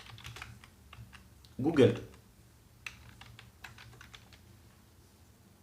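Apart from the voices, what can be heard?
typing on a computer keyboard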